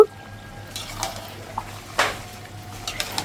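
Chicken meat being stir-fried with spices in a pan, heard as a few sparse metal clinks and scrapes of a spoon against the pan over a low, steady background hum.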